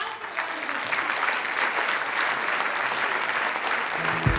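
Audience applause at a 2019 State of South County address honoring a county supervisor, steady dense clapping from a crowd that holds evenly throughout and begins fading at the very end.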